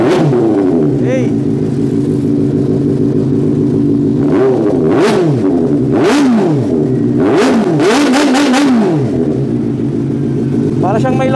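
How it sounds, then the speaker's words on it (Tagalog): A Kove 450RR motorcycle fitted with a full-system exhaust revs hard in repeated bursts as it passes by, engine pitch rising and falling over a steady idle drone, loud and close throughout. "So, flyby tayo para mas marinig nyo na mas matindi yung motor na to."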